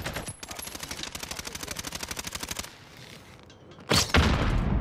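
A fast automatic burst from an AK-47 in Call of Duty Cold War multiplayer, a steady rattling string of close shots for about two and a half seconds, followed by a pause and a heavy thump.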